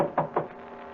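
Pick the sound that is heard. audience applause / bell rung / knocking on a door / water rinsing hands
knocking on a door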